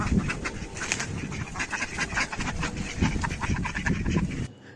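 A flock of egg-laying ducks quacks busily and continuously close by, the overlapping calls forming a dense chatter until it cuts off abruptly at the end.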